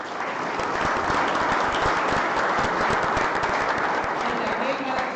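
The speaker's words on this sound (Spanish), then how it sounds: "voy a pedir un aplauso para ellos" Sustained, loud applause from a seminar audience at a silvopastoral systems event, dense clapping filling the space steadily from start to finish with a few voices mixed in.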